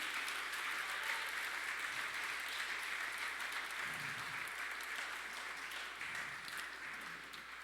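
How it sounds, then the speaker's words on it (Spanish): Church congregation applauding at a service, a steady, dense wash of clapping from many hands that holds for the whole stretch without pause, fairly distant and even in level. "dale un fuerte aplauso al Señor"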